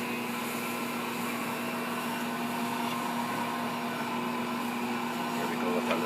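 An Assistent Original mixer kneads dough with a loud, steady motor drone and a strong constant hum. A voice talks faintly beneath it.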